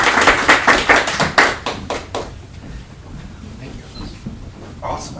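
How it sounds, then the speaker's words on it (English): Lunchtime audience welcoming a guest speaker with a short burst of brisk, close clapping that fades after about two seconds into quiet room sound. "give a round of applause to welcome our guest speaker, Chuck Livecchi."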